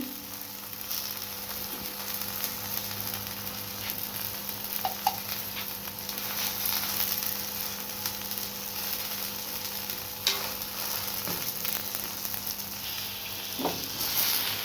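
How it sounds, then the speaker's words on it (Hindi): A radish-stuffed paratha cooks in ghee on a hot pan, giving an even, continuous sizzle up close, with a few faint scrapes and taps over the top and no one talking. "इस तरह हम थोड़ा सा घी लगाएंगे।"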